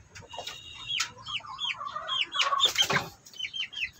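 A broody hen clucks near her clutch of eggs: soft, repeated short clucks and throaty murmurs in an irregular rhythm, fairly close and quiet, with a few sharper chirpy notes.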